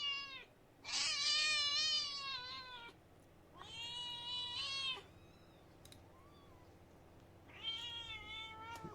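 A cat meows three times in long, drawn-out, plaintive wails with pauses between them, loud and close, no talking.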